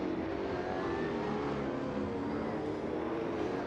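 Race car from a V8 championship in Assetto Corsa, engine pulling hard back onto the power with a dense, continuous loud roar and no voices.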